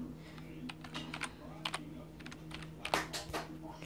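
Keys on a computer keyboard clatter in irregular bursts of quick taps as a password is typed, fairly quiet and close, with a steady low hum underneath and no talking.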